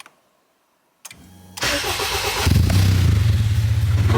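A car engine cranks and catches after a push start button is pressed on a newly installed JDI push start kit, then settles into a steady, loud, close idle after a brief quiet pause.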